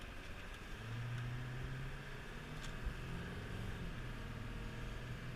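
A car engine pulls at medium throttle with overdrive on while cruising onto a highway, a smooth rising hum with road noise and a slight bump, steady and fairly quiet throughout.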